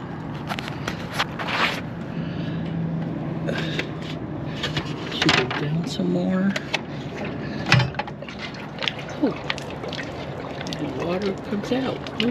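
Water drains and trickles from the tank of an Airstream Globetrotter travel trailer during winterizing, a steady pouring wash with scattered mechanical clicks and knocks, while a person talks over it.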